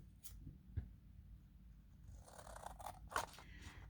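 Scissors snip through paper for a junk journal, a few quiet, close cuts and crisp rustles spaced out over a few seconds in an otherwise quiet room.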